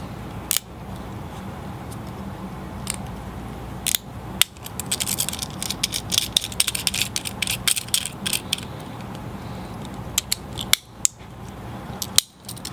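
A screw being driven down by hand to hold a new spring in a Nerf Strongarm-style blaster, with small ratcheting clicks and scrapes, scattered sharp ticks and a quiet stretch of steady fiddling, close to the microphone.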